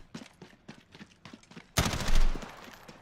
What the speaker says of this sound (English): I'll try and shoot him while strafing and doing that